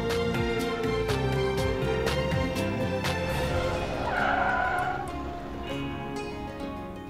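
A car skids and brakes to a halt, tires squealing loudly up close over a steady engine drone, the screech rising then fading as the vehicle settles, with no talking.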